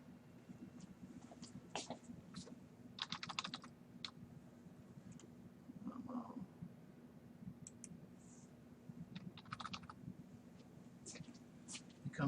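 Quick bursts of typing on a computer keyboard, fast clustered clicks with short pauses, fairly close over a steady low room hum.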